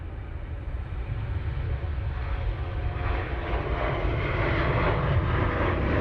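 Ryanair airliner taking off at Manchester Airport, a broad rumbling jet-engine roar that builds gradually and stays strong, heard from a spotting distance with no talk over it.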